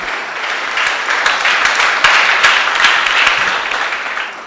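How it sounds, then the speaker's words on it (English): An audience at a science and technology innovation challenge closing ceremony applauds award winners, a sustained round of clapping that swells slightly and then fades toward the end, with no voices over it. "And a heavy round of applause for those awards."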